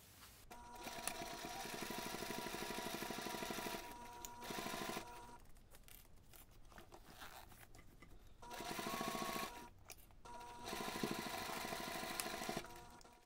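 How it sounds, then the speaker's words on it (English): Sewing machine stitching the side seams of a DIY two-compartment backpack, in several rapid bursts of mechanical whirring separated by short pauses, close and steady, with no talking. "Next you can take this to the machine and sew both side seams."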